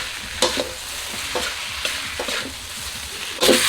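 Korat rice noodles with holy basil and crispy pork being stir-fried in a hot pan: a steady loud sizzle broken by several sharp scraping strokes of the spatula at uneven intervals, with no voices.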